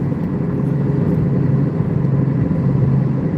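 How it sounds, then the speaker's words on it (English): Inside a 2016 Jeep Compass cruising on the road, a steady low rumble of engine and tire noise drones constantly, loud and unbroken, with no talking. "My car sounds loud."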